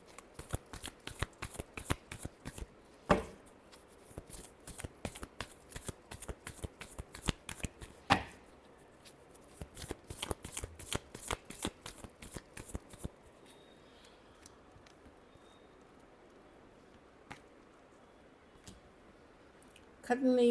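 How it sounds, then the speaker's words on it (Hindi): Tarot cards being shuffled in rapid, dense bursts of crisp riffling clicks for about thirteen seconds, then stopping, with only a few faint isolated taps afterward. "Last shuffle."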